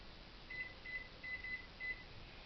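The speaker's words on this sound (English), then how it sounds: "I'm going to start the timer for 5 minutes." A kitchen timer set for five minutes while making homemade strawberry jam gives a series of about five faint, short electronic beeps in quick succession.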